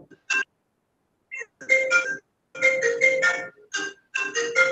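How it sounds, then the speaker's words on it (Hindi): Mobile phone ringtone going off in a classroom, a bright electronic melody in short repeating bursts with gaps between phrases, clear and fairly close. "अरे किसका फोन चल रहा है ये?"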